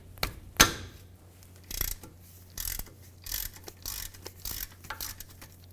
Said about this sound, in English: You can use a 3/8 ratchet on the drain plug at the bottom here.